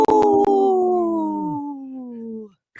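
A human voice imitates a wolf-like howl on a radio show: a single long, close howl that slides slowly downward in pitch and fades out after about two and a half seconds.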